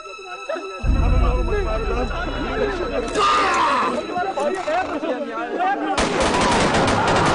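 Volley of gunfire after an order to fire in a historical dramatization of British colonial rule, loud crackling shots in bursts with shouting voices mixed in.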